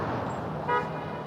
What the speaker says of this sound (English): They honk at the police